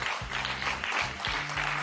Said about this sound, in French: on va vous applaudir quand même